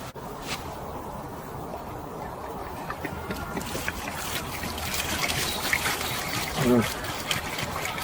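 Coloured, mucky water trickles and dribbles steadily out of a Lambretta Series 3 scooter's exhaust box during de-coking, close by, with an intermittent murmur of speech and a brief gurgle near the end.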